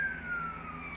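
A wailing state trooper police car siren sweeps downward in pitch over a low engine rumble, steady and fairly close, with no talking.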